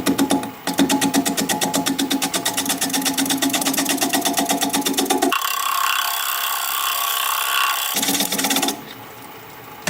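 A wood lathe spins at about 500 RPM while a 3/8 inch bowl gouge cuts a recess in fog wood, giving a loud, steady rapid ticking chatter that drops to a smoother hiss midway, then resumes.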